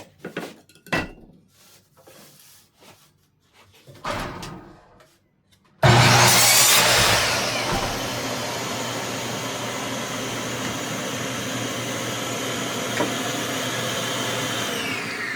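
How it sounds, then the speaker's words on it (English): A miter saw makes a 45-degree cut through a cedar fence picket: a few handling knocks, then the motor spins up loud and close, bites into the wood with a harsh whine, and runs on steadily to the end. "So I'll come over here to my miter saw. What I'll do is I'll go ahead and cut me a 45."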